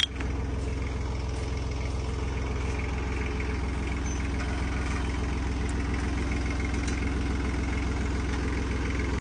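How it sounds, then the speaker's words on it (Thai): A 31-horsepower farm tractor's diesel engine idles steadily and close by, a low, even chugging rumble that continues unchanged throughout. "รถไถสามสิบเอ็ดแรงม้า"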